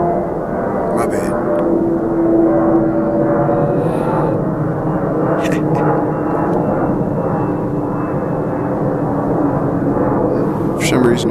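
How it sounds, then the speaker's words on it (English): A loud old airplane flies overhead at night. Its engine gives a continuous, heavy roar that stays at full strength throughout, with faint talk mixed in. "Loud old airplane."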